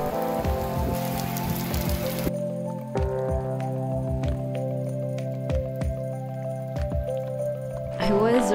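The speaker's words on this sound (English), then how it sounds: "figuring I'd be there for a while given the rain situation outside" Rain falls outside a motorcycle campsite at Peña del Aire, Hidalgo, Mexico, as a steady patter with scattered drips. Voices and tonal sounds run over it throughout.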